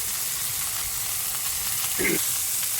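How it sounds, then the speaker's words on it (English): Fillet steaks searing in a hot pan give a steady, soft sizzle throughout, with a brief brighter crackle near the end. "So we'll let these sear. I'm going to sear them on all sides."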